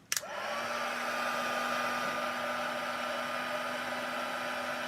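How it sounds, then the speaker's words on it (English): A heat embossing tool blows and whirs steadily as it melts embossing powder on cardstock, a loud, even airy drone with a faint rising whine as it starts, continuing unbroken throughout. "I'll use my tweezers to hang onto the cardstock while I emboss with the heat tool."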